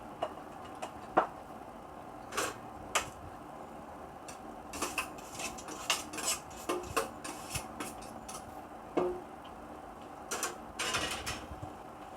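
Utensils work kerabu dressing through barbeque pork, giving scattered soft clicks and light scrapes in an irregular rhythm against a quiet background.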